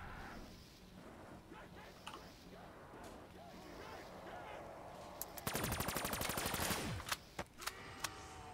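Automatic gunfire in the Der Riese zombies map of Call of Duty: a sustained rapid burst for over a second, followed by a few single sharp shots, over a low game ambience background.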